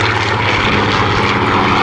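A Spitfire roars past at an airshow display, a loud, steady propeller-engine drone filling the whole moment with no voices.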